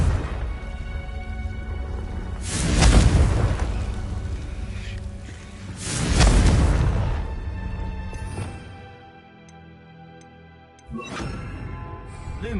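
A Confringo blasting spell in a Harry Potter video game sets off two loud, booming explosions a few seconds apart, each swelling and fading into a rumbling tail, then a sharper crack near the end.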